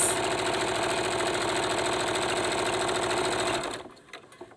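Sewing machine stitching a fabric face mask, running steadily with a fast, even mechanical whir and rhythmic needle clatter, close and loud, then stopping abruptly near the end.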